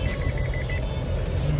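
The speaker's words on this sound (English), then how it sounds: "if you cross this white line here without using your turn signal, you will find that it will beep" A brief series of quick electronic lane departure warning beeps sounds over steady road and engine noise inside a moving Isuzu D-Max X-Terrain.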